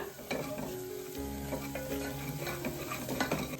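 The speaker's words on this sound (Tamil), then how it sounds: "இது மூணையும் ஆட் பண்ணிட்டு மசாலா ஸ்மெல் போற வரைக்கும் நல்லா வதக்கி எடுத்துக்கோங்க" Onion, tomato and masala sauté in a pan for a dried-fish thokku, with a close, continuous sizzle and busy stirring scrapes and clinks.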